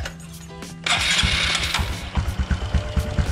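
A small engine cranks and catches after a carburetor check, then settles into a loud, uneven running idle with pulsing rhythm, close up and alone.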